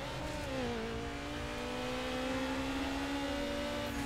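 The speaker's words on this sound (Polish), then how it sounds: "tutaj dosyć dobrze słychać po dźwięku samochodu, kiedy on się dusi, kiedy trzeba mu zredukować albo dać wyższy bieg" Mazda MX5 engine in Need for Speed Underground droning at steady revs with a slight pitch rise, a continuous loud whine with no speech.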